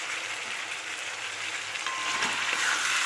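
Mutton fries with chili powder and ginger-garlic-green chili paste in a pan, producing a loud, continuous close sizzle with light stirring scrapes.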